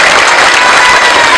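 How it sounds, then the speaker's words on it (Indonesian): Dense, steady audience applause fills the hall at a pesantren graduation celebration, loud and continuous with no pauses or voices on top. "Tepuk tangan untuk kita semuanya."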